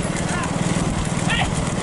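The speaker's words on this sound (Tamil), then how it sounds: "நடந்து கொண்டிருக்கு சின்னமாட்டு வண்டி பந்தயத்தின் சமயம்" Bulls' hooves pound the ground during a small bullock cart race in Ramanathapuram district, a quick drumming beat under loud crowd and commentator noise, with people talking throughout.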